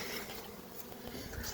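Dense, steady buzzing of a large, strong new honey bee colony being fed syrup, a continuous hum of many bees close by with no speech.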